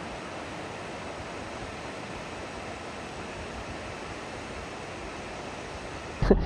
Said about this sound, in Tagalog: Naririnig mo yung lagastas ng tubig.